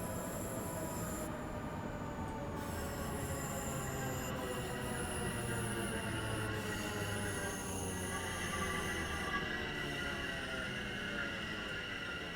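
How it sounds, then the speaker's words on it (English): A London Overground train on the Mildmay Line in Train Sim World 5 rolls along with a steady low rumble, rhythmic wheel noise and high metallic squeals that rise and fade, heard close and continuous with no voices. "Purple train."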